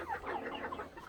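Australorp and silver lace hens cluck softly in a close, busy chorus of overlapping short calls, with no voices.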